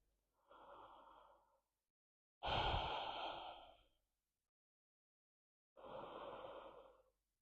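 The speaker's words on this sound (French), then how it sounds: "Et on expire." Slow breaths during a natarajasana (dancer pose) yoga session: three separate airy breaths, the middle one a louder, fuller exhale, close to the mic in an otherwise silent room.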